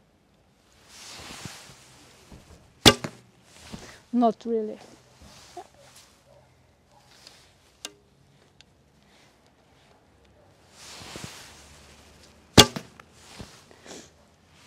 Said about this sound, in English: Maybe the sound changes now with the heavier arrows.